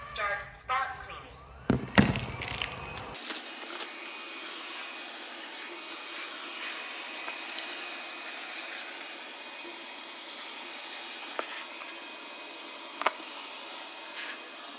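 iLife Shinebot W455 robot vacuum starting spot cleaning indoors: a few clicks and beeps, then a steady, moderately quiet whirring hum that runs on alone, with occasional small knocks.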